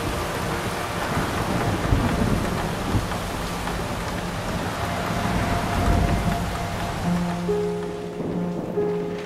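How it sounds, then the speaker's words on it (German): Steady heavy rain hissing loudly with a deep rumble of thunder underneath in the video game Mafia II, continuous throughout and no voices. "Ja, es regnet."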